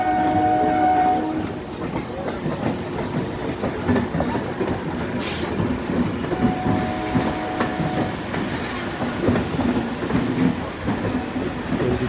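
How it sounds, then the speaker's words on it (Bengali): A Hasnabad local train pulls away from the platform, its steady rumble and clickety-clack rolling on throughout, with a brief horn blast partway through, loud and close from onboard. "ট্রেনটি ছাড়লো।"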